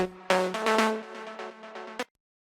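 Melodic techno synth lead with its full effects chain: a bright, harmonically rich sustained line in a few stepped notes over about two seconds, then a clean cutoff into silence. Close and alone.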